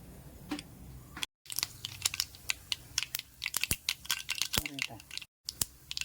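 Mustard seeds with fenugreek crackle and pop in hot coconut oil in a pan: sharp, irregular spluttering bursts close up, with brief gaps.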